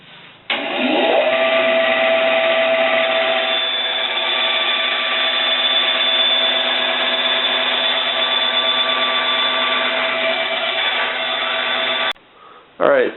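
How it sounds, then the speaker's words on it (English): A bandsaw cuts through 1/4 inch backer board with a loud continuous buzzing whine of about eleven seconds, starting and stopping abruptly with brief handling sounds at the end. "I'm just going to manually cut it out that way with the bandsaw. Okay, going to cut this backer board out."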